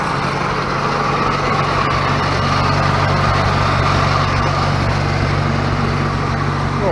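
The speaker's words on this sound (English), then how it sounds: "As you can see, we got her started right up. She's a good running tractor." Running tractor engine, a steady loud mechanical drone with a rapid low putter and slightly noisy rattle, heard up close and continuous without talk.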